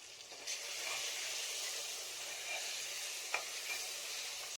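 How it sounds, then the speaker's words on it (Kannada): Ground dried chilli and grated coconut paste sautéing in oil inside a pressure cooker, a steady close sizzle with soft stirring scrapes and one sharper clack, no voices. "ಕುಕ್ಕರ್ಗೆ ರುಬ್ಬಿಟ್ಟುಕೊಂಡ ಒಣಮೆಣಸಿನಕಾಯಿ ಹಾಗೂ ಕಾಯಿ ತುರಿಯ ಪೇಸ್ಟ್ ಅನ್ನು ಸೇರಿಸಿಕೊಂಡು ಬಾಡಿಸ್ಕೊಳ್ಳೋಣ"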